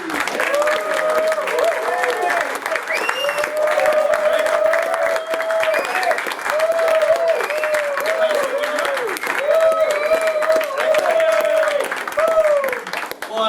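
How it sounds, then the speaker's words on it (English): An audience applauds a magician at a club spotlight show, with steady, dense clapping throughout and a voice speaking or calling out over it. "Let's give a nice round of applause for Andy."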